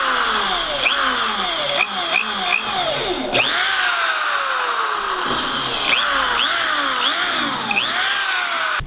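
A power drill bores pilot holes for screws in a wooden Dutch door during a tiny house build, its motor whining up and down in repeated short bursts, loud and close.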